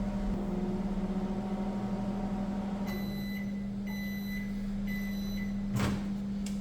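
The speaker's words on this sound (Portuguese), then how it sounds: "dentro do micro-ondas junto com um copo d'água e nós vamos colocar ele para secar por 5 minutos" A microwave oven runs to dry a forage sample alongside a glass of water, humming in a low, steady drone with a few short electronic beeps near the end.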